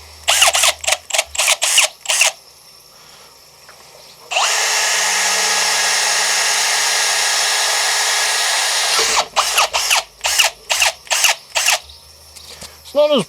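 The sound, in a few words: Milwaukee power drill making a clunk sound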